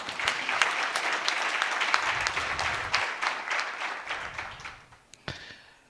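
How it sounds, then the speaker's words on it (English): An audience at a University of Limpopo public lecture by Auditor-General Tsakani Maluleke breaks into sustained applause, dense and close, which thins toward the end with a few last claps. "I think she deserves a round of applause."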